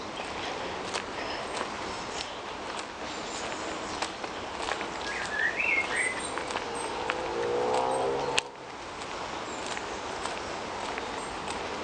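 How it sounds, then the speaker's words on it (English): Birds chirp and sing intermittently in a dense wooded setting, with footsteps crunching steadily underneath and a brief sharp knock near the end. "you can listen to the birds and enjoy the walk"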